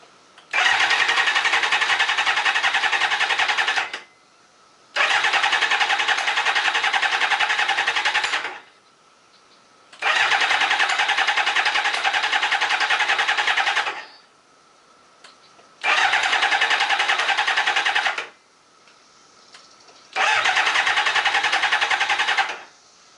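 A Kawasaki ZZR 600 motorcycle engine cranks repeatedly without starting, in five long, loud bursts of steady starter whirring separated by short pauses.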